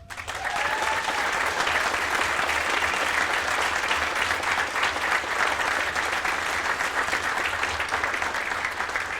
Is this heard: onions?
no